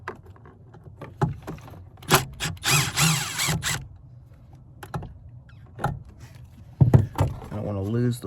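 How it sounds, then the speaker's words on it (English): A power driver backs T25 Torx bolts out of a 2010 Jeep Wrangler door, with a short buzzing whir and a rising motor whine near the end among clicks and handling noises, while someone talks between bursts. "So we're gonna go ahead and remove those two bolts."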